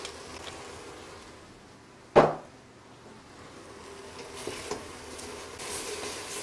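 Bacon with black pepper cooking in a pot for seafood chowder, a low steady sizzle broken by one sharp metallic clank of a utensil, then faint crackling.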